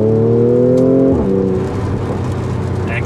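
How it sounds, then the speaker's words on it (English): Mercedes-Benz C450 AMG 4Matic T-Model wagon drives with a steady engine drone that drops sharply on a double-clutch downshift, followed by rough exhaust rumble and crackle, loud and close. "And you hear the crackling, the burping, whatever you want to call it."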